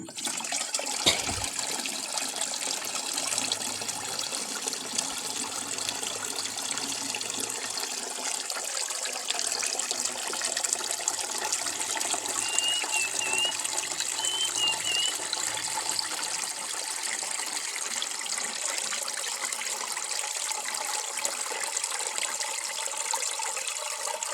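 Water steadily pouring and gushing into soil prepared for sowing purple eggplant seeds, a continuous close splashing flow lasting the whole time with no talk.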